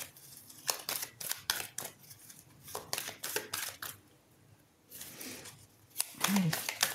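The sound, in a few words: tarot cards being drawn and handled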